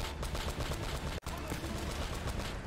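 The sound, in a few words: machine gun fire in video game Uncharted: Drake's Fortune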